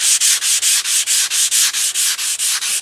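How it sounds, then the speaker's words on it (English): Wet sanding of a guide coat on a fiberglass panel with 400-grit sandpaper on a hard block: a close, loud, rhythmic rasp of quick back-and-forth strokes, about five per second, steady and with no voices. "About to start wet sanding. I got some 400 grit."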